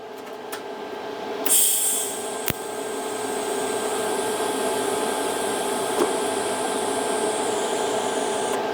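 A TIG welding arc at 50 amps, a steady close buzzing hiss that starts abruptly and holds unbroken for several seconds, with a faint electrical whine.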